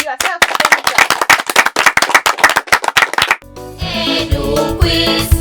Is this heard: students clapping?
yes